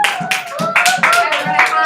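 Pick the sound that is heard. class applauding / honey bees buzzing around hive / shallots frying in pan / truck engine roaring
class applauding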